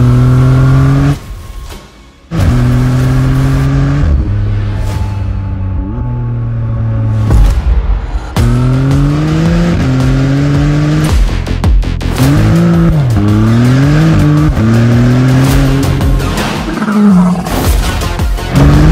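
Maserati MC20 fitted with a Novitec exhaust revs hard and loud, with repeated rising and falling engine sweeps, sharp blips and a brief lull near the start, close and alone with no talking.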